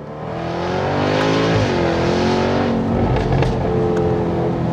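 A Jaguar F-Type V8 in dynamic mode revs past 4,000 RPM on the paddles, a loud, close engine note climbing and sweeping through gears with a raw, sustained roar.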